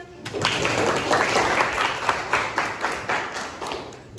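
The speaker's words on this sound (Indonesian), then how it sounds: "Ayo, kasih tepuk tangan." A school class claps together for a student, scattered hand claps building into brisk, fairly close applause that tapers off after a few seconds.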